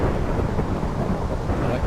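A thunderstorm in Minecraft with the Magic Farm 2 modpack, a dense continuous wash of rain with low rumbling thunder, loud and steady throughout with no voices.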